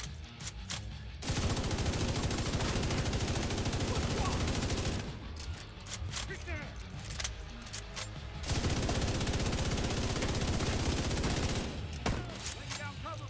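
Sustained bursts of video game gunfire laid down as cover fire, with rapid shots rattling continuously in two long stretches separated by short pauses.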